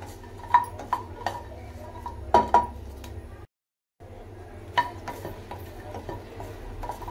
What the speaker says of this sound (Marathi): सगळ्यात पहिला आपण हिरवी मिरची अशीच आपली सुक्की भाजून घ्यायची आहे